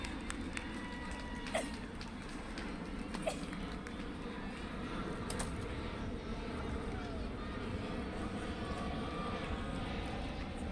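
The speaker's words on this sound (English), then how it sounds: "Got a plane coming in here, courtesy of UPS right now." A UPS airplane passes overhead during an outdoor softball game, a steady, broad engine roar that holds for the whole stretch, with faint voices and a few sharp knocks underneath.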